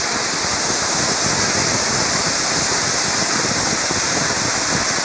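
Dense, continuous hiss of hail pounding a roof during a hailstorm in Sakon Nakhon, Thailand, loud and unbroken throughout with no voices.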